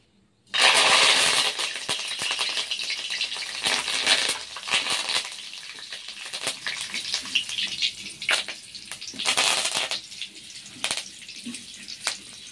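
Curry leaves are dropped into cooled oil left from frying peanuts for a crunchy jhuri bhaja. A sudden loud hiss bursts up, then it settles into a steady crackling sputter that surges and eases, with no speech.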